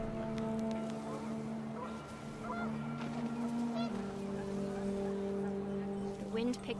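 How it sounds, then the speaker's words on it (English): Panicked geese honk in the video game What Remains of Edith Finch, a steady flock clamor over wind and a low droning hum, moderately loud throughout. "The wind picked up and panicked geese appeared and quickly went."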